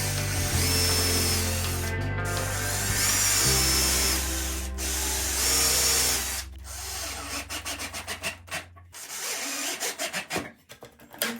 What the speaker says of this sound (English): fasten the handle in using the 1 1/4 inch screws